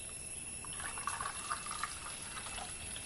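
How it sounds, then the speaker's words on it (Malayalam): Water poured into a bottle for a homemade water pump, a soft close splashing trickle running steadily through the clip with no talk. "അപ്പോൾ നമുക്ക് വെള്ളം ഒഴിച്ച് നോക്കാം അല്ലേ"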